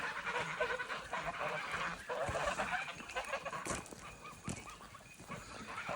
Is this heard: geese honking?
yes